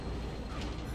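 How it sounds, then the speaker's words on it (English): A train rumbles steadily past in a video game, a continuous loud mechanical roar with rattling texture filling the whole moment. "I just fucking like literally saw the train and still walked into it"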